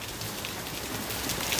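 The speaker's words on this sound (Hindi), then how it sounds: "बारिश अभी भी उतनी ही हो रही है, कल रात से ही इनफैक्ट हो रही है।" Steady rain falls outside a kitchen window after a night of downpour, a soft even hiss of drops on surfaces with no voices.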